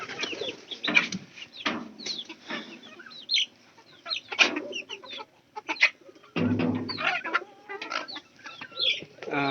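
Hens kept for eggs and hatching chicks clucking and cackling close by, a run of irregular sharp calls and bursts with some wing flapping, loud against a quiet farmyard.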